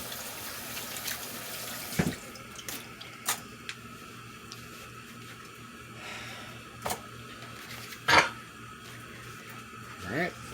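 Water runs steadily from a kitchen tap while hands are washed under it, with occasional splashes, squelches and knocks against the sink, during cooking prep for fried codfish and hand-cut fries.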